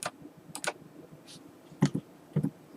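Clicks from a computer mouse double-click and a keyboard escape key press while working in AutoCAD 2021: a few crisp, quiet clicks in small pairs, close by, with no talking.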